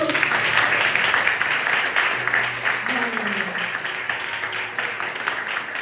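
A church congregation at a Brazilian deliverance service applauds for Jesus, a dense steady wash of clapping that fills the whole stretch, with voices and faint tones mixed underneath.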